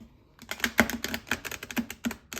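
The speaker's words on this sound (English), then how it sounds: "I kind of have to riffle shuffle them." Gilded tarot cards that stick together are riffle shuffled, giving rapid, crisp flicking clatters in uneven bursts, close and fairly loud.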